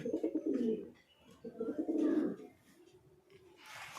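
Fancy pigeons coo at a pigeon farm, with two long throaty coos close by, a softer trailing call, then a brief rustle at the end.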